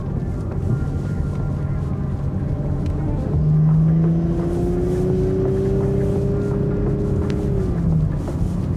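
A Porsche Macan engine drones steadily while downshifting, a close continuous rumble with a pitch that climbs and falls as gears change, heard alone without talk.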